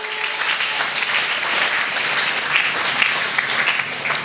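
Church congregation applauding: sustained, dense clapping from many people, even in level for a few seconds, with no talking over it.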